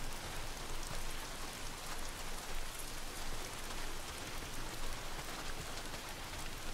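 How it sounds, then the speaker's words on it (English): Heavy rain in the video game Days Gone pours down evenly and continuously, a dense hiss with no voices. "Oh no. It's raining!"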